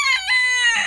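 A rooster kept in a bachelor pen with other roosters lets out one loud, close crow that cuts off sharply, with no talking.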